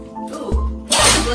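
A dog lets out a short, sharp sneeze up close, followed by a brief burst of breathy noise, in a quiet indoor room.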